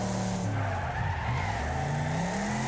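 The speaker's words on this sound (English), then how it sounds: "Just a little bit of oversteer, but it's controllable." A race car in the game Wreckfest oversteering on tarmac, its engine droning loudly while the tires skid and squeal continuously, close and steady with no talk.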